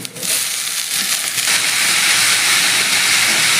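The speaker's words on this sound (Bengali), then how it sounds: "পেঁয়াজটা হালকা লাল করে ভেজে নিয়েছি এবার আমি শাকটা দিয়ে দিচ্ছি" Fresh spinach dropped into hot oil over lightly browned onions sets off a loud, steady sizzle and hiss that fills the pan throughout, with no talking.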